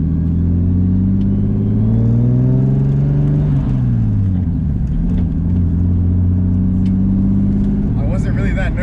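Turbocharged 500whp M50-engined BMW E30 launching hard in a driveway, a loud, close engine rising in pitch through a sustained rev before dropping back, with a brief rasp at the end.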